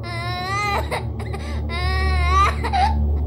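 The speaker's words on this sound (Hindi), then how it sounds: "मुझे किसी बच्चे की रोने की आवाज़ आई।" A young boy of about six or seven cries at night in two long wailing bouts, each rising and breaking off, with a brief sob between them. The crying is close and loud against a low steady hum.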